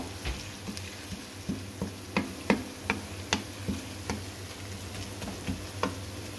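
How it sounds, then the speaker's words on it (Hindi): Garlic and ginger frying in a cooking pan, a steady quiet sizzle broken by a regular series of light ticks and taps from stirring, close and alone with no talk. "अब मैं इसको हल्का सा ब्राउन करूंगी, लहसुन अदरक को"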